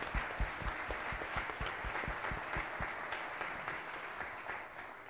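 Audience applause fills a gala hall, steady dense clapping from a crowd with sharper individual claps near the microphone, sustained throughout without talk.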